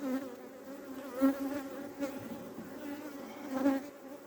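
Honey bees buzz around an open beehive in Adana, a dense steady drone with individual bees swelling louder as they pass close by.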